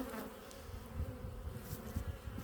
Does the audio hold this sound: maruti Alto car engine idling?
no